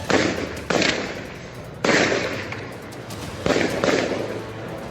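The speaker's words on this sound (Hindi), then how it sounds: "पुलिस के जवान गोलियां चलाते हुए आगे बढ़ रहे थे।" Four loud gunshots from police firing during a riot in Bhilwara, India, crack at irregular intervals, each trailing off in a long echoing rumble, with no talking.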